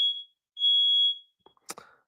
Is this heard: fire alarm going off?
yes